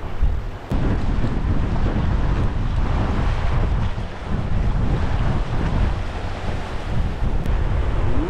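Strong wind buffeting the microphone while fishing outdoors by the water, a loud, continuous low roar with gusty surges and brief dips throughout, no talk.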